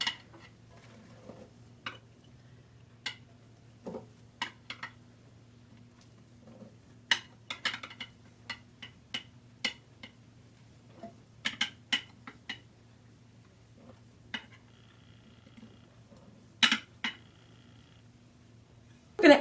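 A half cup measuring cup scoops flour repeatedly, producing scattered light clinks and scrapes against a container at irregular intervals over a steady low hum, close by and without speech.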